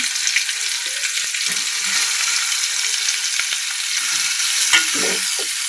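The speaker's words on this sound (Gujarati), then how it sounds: "મસાલાને આપણે ડુંગળીની કલર ચેન્જ થાય ત્યાં સુધી આપણે હાઈ ફ્લેમ ઉપર થોડી આપણે ચલાવતા રહીશું." Finely chopped onion and spices fry in hot oil over a high flame, giving a steady, loud sizzle throughout, with occasional scraping and clinks as the mixture is stirred.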